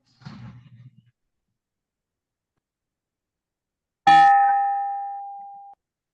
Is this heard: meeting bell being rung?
yes